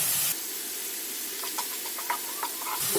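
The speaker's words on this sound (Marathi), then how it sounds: "आपल्याला आता मसाला व्यवस्थित परतून घ्यायचे" Pav bhaji masala with Kashmiri chilli powder and salt frying in a pan, a soft continuous hiss broken by a few light scrapes of stirring, louder bursts of hiss at the start and end.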